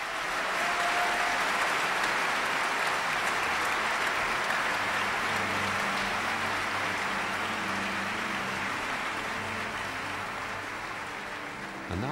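A large concert audience gives rapturous applause after an opera performance, a loud, dense, sustained roar of clapping that fills the whole stretch and tapers slightly near the end.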